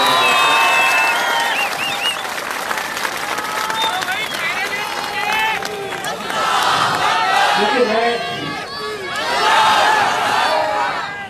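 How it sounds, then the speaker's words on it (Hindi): A rally crowd in Aurangabad breaks into loud applause, dense clapping mixed with shouts and cheers that swells and ebbs over several seconds, with voices calling out throughout. "तो एक जोरदार तालियां अपने खुद के लिए बजा दी जाए"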